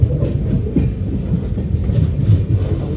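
The Somnath Express running on rails, heard from inside a second AC coach as a loud continuous rumble with rhythmic clattering of wheels over track joints.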